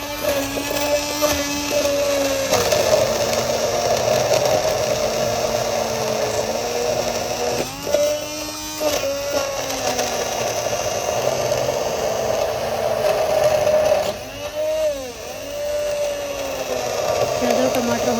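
A mixer grinder grinds tomatoes and chillies in a loud, close, continuous whirring drone that dips and surges in pitch as the jar is pulsed and the blades catch and clear the pulp.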